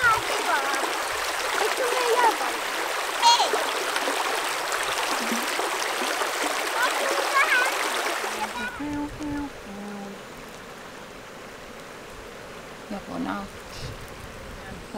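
A stream flowing through Lapland fell wilderness, a steady bright rushing of water that fills the first eight seconds and then cuts to a much quieter outdoor scene with faint sounds.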